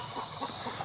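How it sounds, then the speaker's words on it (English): On a homestead a rooster clucks and calls in a short burst during a chase, fairly faint with outdoor background. "got another rooster chase going on"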